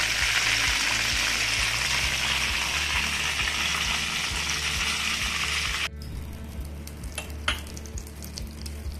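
Burger buns for a homemade chicken burger fry in a pan with a loud, steady sizzle that cuts off abruptly partway through, leaving quieter clinks and light scraping.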